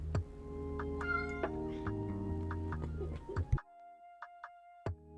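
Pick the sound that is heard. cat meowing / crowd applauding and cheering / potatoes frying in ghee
cat meowing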